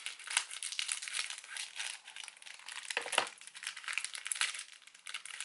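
Wrapping from Easter egg gifts crinkles and crackles softly and continuously as it is torn open nearby, with irregular bursts of rustling and no talking.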